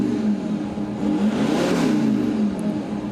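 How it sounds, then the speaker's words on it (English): A Volkswagen Touareg SUV with a V10 TDI diesel engine revs up, its deep, smooth engine note swelling and falling back over a few seconds, close and loud with no talking. "you can hear the big engine"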